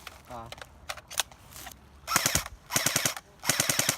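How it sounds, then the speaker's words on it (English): An AGM MP40 airsoft gun firing 0.20 g BBs on full auto gives three rapid, clattering bursts in the second half, preceded by scattered clicks and handling noises and a brief bit of background voice. "we're doing a shooting test on the MP40"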